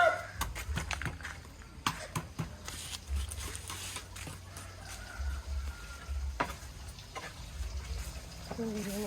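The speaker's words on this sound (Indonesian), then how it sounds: "Kentang sambil goreng ini." Potatoes frying in a pan, a soft continuous sizzle with scattered clicks and scrapes of stirring, heard close up under someone talking.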